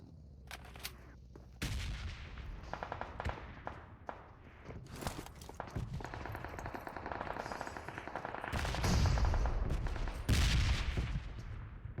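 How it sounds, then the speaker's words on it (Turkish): Rapid automatic gunfire in PUBG Mobile crackles in dense bursts, with a few sharp shots first, then sustained machine-gun fire and heavier booming blasts toward the end, mostly alone. "Kime sıkıyor böyle? Kime sıkıyorsun kardeş?"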